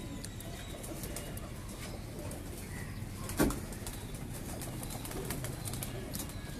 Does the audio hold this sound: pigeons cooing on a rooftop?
yes